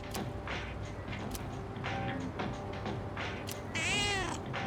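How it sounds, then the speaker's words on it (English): A cat meows in the video game Persona 3 Reload, with one strong, rising meow near the end over a steady hum of game music and ambience. "The strongest meow we've heard so far."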